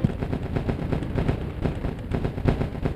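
Explosive shotgun rounds fired by a robot in the War Robots game: a quick series of heavy, booming blasts with deep rumble, repeated irregularly and loud up close.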